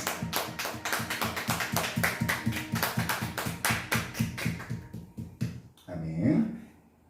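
A church congregation claps during a Sunday worship service, a dense run of sharp, steady clapping that fades out near the end, followed by a brief burst of voices.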